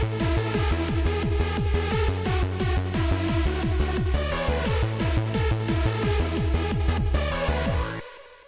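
A distorted synth lead shaped by distortion plugins drives over a dense, busy electronic loop with punchy repeating bass hits, loud and continuous before cutting off at the end.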